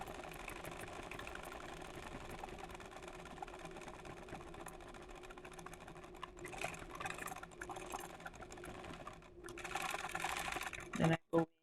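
A sewing machine hums and chatters steadily while free motion stitching on sheer fabric, with a soft voice talking over the continuous motor whir and a couple of brief thumps at the end.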